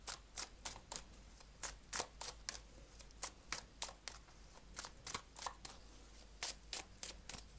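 Tarot cards are shuffled and drawn, giving faint, crisp, rapid clicks and flicks in uneven bursts with no talking.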